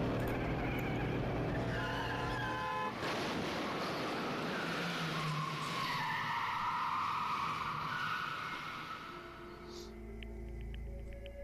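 A car in a Danganronpa video game scene swerves into oncoming traffic, with a long, loud whoosh and tire-skid roar that builds, sweeps through and fades into a low rumble, alone without talking.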